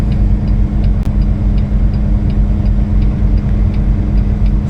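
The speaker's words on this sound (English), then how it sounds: "So I got to rev it up now." A truck engine runs up at raised revs to build air pressure for a trailer airbag, producing a steady, loud, low rumbling drone close by with no talk.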